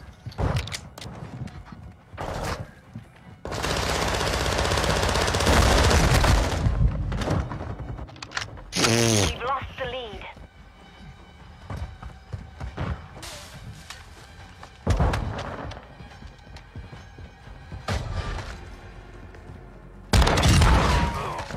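Video game gunfire with shotgun blasts, bursts of loud shots and heavy thumps arriving in clusters across a busy battle soundscape, with brief pauses between volleys and no clear speech.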